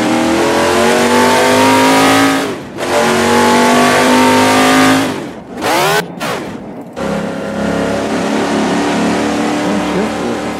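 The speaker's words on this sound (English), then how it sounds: "I like the sound of the engine." A 2002 Chevrolet Camaro SS engine revs hard in long, loud rising pulls, broken by gear-change dips and a brief drop near six seconds, then settles into a steady throaty roar.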